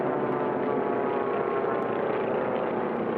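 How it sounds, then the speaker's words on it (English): A Formula One class racing airplane flies past a pylon, a dense propeller-engine drone that holds steady and fairly loud, with no pauses or voices. "The aircraft is back again"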